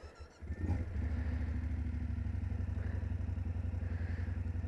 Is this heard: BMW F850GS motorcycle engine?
yes